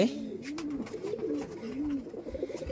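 Several pigeons cooing close by in a loft, low throaty rolling coos repeating one after another with faint rustling and clicks behind, no talk.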